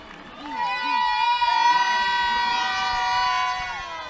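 A family at a slow-pitch softball game screams, hollers and cheers after a home run, giving loud, sustained, high-pitched shrieks close by that hold for several seconds over a quieter crowd.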